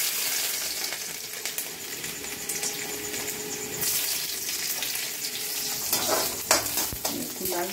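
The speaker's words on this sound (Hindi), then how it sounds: "और ये हमने तेल डाल दिया, अब इसमें पहले सबसे पहले लहसुन डाल देते हैं," Garlic frying in oil in a pan while cooking a ridge gourd (nenua) sabji, a steady broadband sizzle with stirring scrapes and a few louder crackles near the end, close and continuous with no talk.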